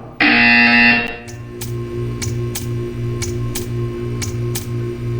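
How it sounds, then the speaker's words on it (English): A loud, harsh buzzer sounds once for about a second in a Portal 2 test chamber, followed by regular ticking clicks over a low ambient hum. "You will hear a buzzer."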